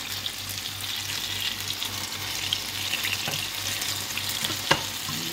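Overripe banana sizzling and frying in hot cooking oil in a pan for turon, a steady close crackle with a few sharper pops, no voices.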